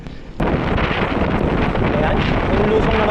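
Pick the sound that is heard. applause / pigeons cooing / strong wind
strong wind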